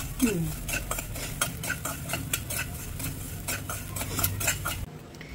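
Salt is dry-roasted in a kadai for mango pickle, with a spatula scraping and stirring it in quick, regular strokes close by, plus soft grainy rustling, until the stirring stops near the end.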